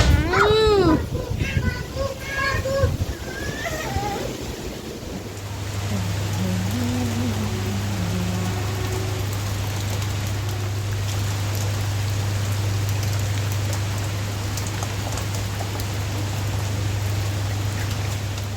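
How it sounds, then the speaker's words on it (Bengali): Rain falls during an approaching storm, a steady wash of drops that takes over after a few seconds, beneath a constant low hum; children's voices and other sounds come first, with scattered talk. "তুফান আসতেছে, তুফান।"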